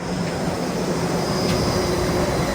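Steady, loud rumbling hum of a Disneyland tram arriving at a parking structure on a rainy day, continuous and droning with no voices.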